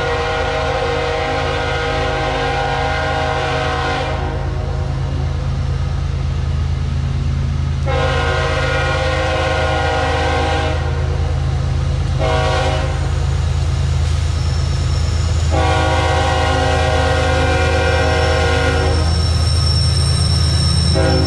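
A heavy train rumbles steadily past at close range in Dalton, Georgia, its locomotives leading, with loud horn blasts and squealing wheels sounding in repeated stretches over the roar.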